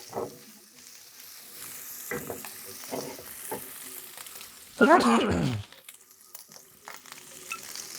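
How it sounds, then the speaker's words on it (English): Bacon frying in a pan for Boscaiola pasta, its fat rendering until the edges crisp; a steady sizzle runs throughout with stirring scrapes, swelling into a loud burst of crackling for about a second midway before settling back. "crispy, it means the bacon is getting cooked"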